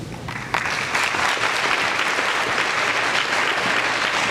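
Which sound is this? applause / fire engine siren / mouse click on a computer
applause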